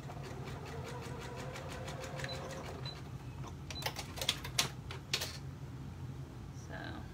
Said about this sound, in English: I'm just sewing right along that seam, and I'm staying on the binding side of that seam.